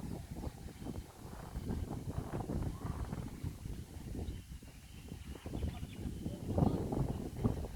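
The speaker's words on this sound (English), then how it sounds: "You can see the wind in the coconuts." Wind blows steadily on a windy morning on Samal Island, buffeting the microphone in a rough, continuous rush with gusty swells, covering whatever rustle of coconut palms lies beneath.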